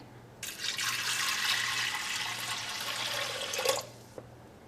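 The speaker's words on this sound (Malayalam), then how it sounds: "ഇതിലേക്ക് നമുക്ക് ആവശ്യത്തിന് വെള്ളം ഒഴിക്കുക" Water pours steadily into a metal pressure cooker for about four seconds, a loud close splashing rush that cuts off abruptly.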